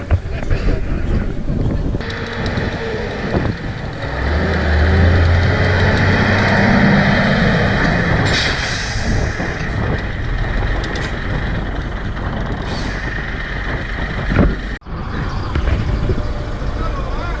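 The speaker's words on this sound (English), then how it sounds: "Now we're going to brake test the generator trailer." Generator trailer towed behind a vehicle during a brake test, a steady loud road and engine rumble with wind buffeting the microphone throughout, slowing and easing near the end.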